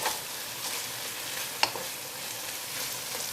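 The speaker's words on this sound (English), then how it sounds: "Give that a little stir." A spoon stirs Nepalese Gurkha curry in a pan, a soft scrape with one brief clink against the gentle sizzle of cooking, quiet and close.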